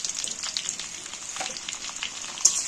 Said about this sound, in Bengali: আলুগুলো ভালো করে নাড়াচাড়া করে ভালো করে ভেজে নেব